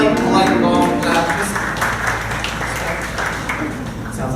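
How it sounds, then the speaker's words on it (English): A live theater audience at an improvised musical show gives a light, sustained round of clapping, a soft continuous wash of many hands that holds steady with some voices mixed in. "So, if you heard a song that you like but didn't love, let's just do a quick test run here. Just a light, long clap."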